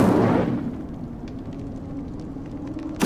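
An Incendio fire spell bursts in a video game, a loud whooshing blast at the start that fades into a low sustained rumble, with another burst flaring at the very end.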